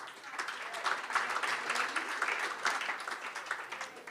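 Sustained applause from the crowd at a swimming club awards evening, many hands clapping evenly for several seconds with faint voices underneath.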